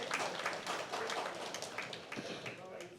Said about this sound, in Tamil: அவருக்கு நமது கைத்தட்டல்கள் வரவேற்பினை சொல்லுவோம்